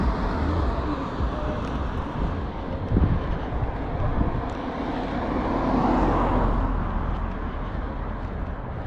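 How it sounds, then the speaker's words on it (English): Continuous heavy wind roars and rumbles across the microphone, broad and steady with slight swells, no clear voices above it. "It's windy today."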